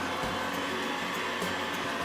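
Electric mixer running on high, whipping cream flavored with maple syrup for a Christmas Yule log cake; a steady, loud whirring motor drone that holds without a break, with no talk over it.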